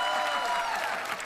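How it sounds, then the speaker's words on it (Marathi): A studio audience at a Marathi comedy show breaks into brief, fairly faint applause and crowd noise welcoming actor Umesh Kamat, a dense patter of clapping lasting only a moment. "जोरदार टाळ्या त्यांच्यासाठी झाल्या पाहिजेत."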